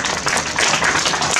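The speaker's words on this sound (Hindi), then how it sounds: "तो आपकी तालियां चाहिए।" Audience applause at a press club oath-taking and office-assumption ceremony, a brief, dense burst of many hands clapping together at close range with no talk over it.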